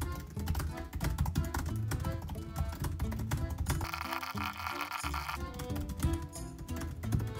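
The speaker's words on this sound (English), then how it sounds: "You just go on here and start typing." Rapid computer keyboard typing during a typing speed test on a Mac, a steady dense patter of key clicks over faint background music, close and fairly loud with no talking.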